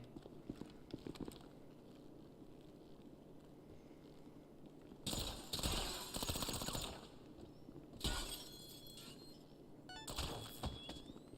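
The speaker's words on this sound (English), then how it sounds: "Who's shooting?" Bursts of gunfire in the video game GTA Online, with three or four loud volleys of rapid shots separated by quieter stretches of low game ambience.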